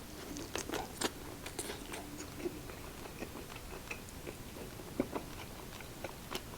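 Crispy pork belly chips crunch and crackle in close, irregular bites, set beside a bowl of ulo-ulo sinigang, with sharp transients scattered over soft chewing and a faint background hum; no talking.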